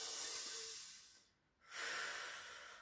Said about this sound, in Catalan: respiro profundament